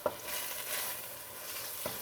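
Meat stir-fries in a pan for Ethiopian-style pasta, a faint, even sizzle with a light utensil knock at the start and another near the end.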